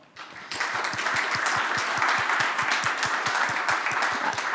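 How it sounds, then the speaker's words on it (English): Seminar audience gives a round of applause for a panel, dense clapping that starts abruptly after a brief quiet moment and holds steady and fairly close, with rhythmic thumps beneath. "We give a round of applause."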